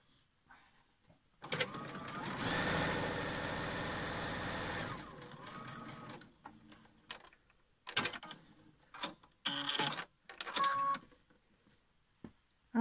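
A sewing machine stitches a fabric face mask in one steady whirring run of about three seconds, followed by a slower stretch and several short, stop-start bursts of stitching, close and moderately loud.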